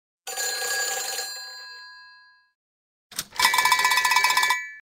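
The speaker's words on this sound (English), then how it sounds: "A phone." A telephone bell rings in two bursts: first a sustained ring that fades away, then after a pause a louder rapid trilling ring with fast repeated strikes, alone with no voices.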